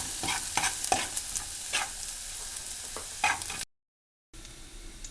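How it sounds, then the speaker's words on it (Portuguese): Chopped garlic fries in a pan toward golden, with a crackling sizzle and quick spits and pops. A brief silent gap cuts in before the frying hiss comes back. "Dois dentes de alho picado. Eu vou deixar esse alho dourar."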